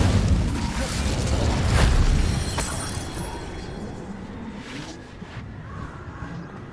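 An Incendio fire spell cast in Hogwarts Legacy on Xbox, hard mode: a deep rumbling burst of flame with sharp crackling flares near the two-second mark, settling into a lower sustained roar that fades.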